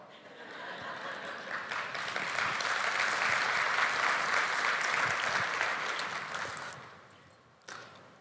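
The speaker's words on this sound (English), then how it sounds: "Someone was clapping." Applause from a small audience at a company update event, steady and fairly full for several seconds before tapering off, followed by a brief final burst.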